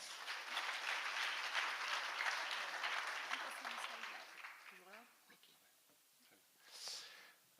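Audience applause at a French project presentation fills the first five seconds at a moderate level, then fades into quiet room noise, with a short burst of sound near the end.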